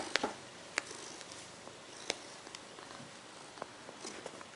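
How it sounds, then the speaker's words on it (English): A cat purrs softly and close by, a faint continuous hum broken by scattered light clicks and taps. "this is my cat."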